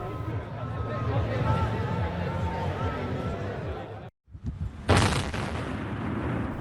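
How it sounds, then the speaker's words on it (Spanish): A sudden deep boom from 420 kilograms of explosives demolishing a 110-metre cooling tower at a coal power plant breaks through a murmuring crowd after a brief silence, followed by a long rumbling roar. "Utilizaron un total de 420 kilos de explosivos para echar abajo la torre de enfriamiento de 110 metros de altura"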